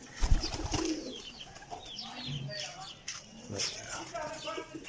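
Pet pigeons give soft, low coos amid a busy loft, with brief knocks and rustles, moderately close under a murmur of background voices.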